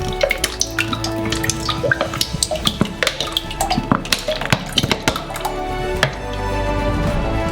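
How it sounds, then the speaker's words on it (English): A liter of oil glugs from a bottle into a saucepan, loud and close, with irregular splashing drips and knocks that settle into a steadier pour toward the end. "We open up a bottle of oil and pour a whole liter into the saucepan"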